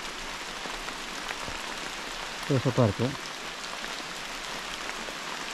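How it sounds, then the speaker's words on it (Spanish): Heavy, unrelenting rain falls outdoors in a jungle setting, a steady close hiss throughout, with someone briefly speaking over it around the middle. "Y la lluvia que no deja de llover"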